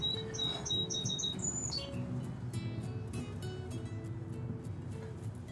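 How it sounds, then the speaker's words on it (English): Small birds in a garden chirp in a quick burst of high, clear notes, then fade to softer scattered calls over a low, steady background hum. "the birds singing"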